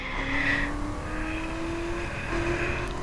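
Camaro engine in a racing video game, droning steadily as the car drives a circuit, with a rising tonal whine and a brief shift near the start, alone without talk.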